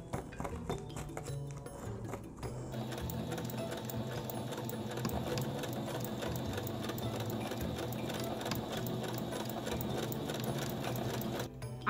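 A sewing machine stitches running-stitch seams across handspun, handwoven fabric with black thread, a steady close mechanical whirr running almost the full length after a brief quieter start, with no talking.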